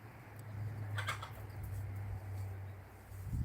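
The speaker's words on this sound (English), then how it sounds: "Sounds like a bird." A bird calls from undergrowth, a couple of brief calls around the middle, over a steady low hum and faint outdoor background.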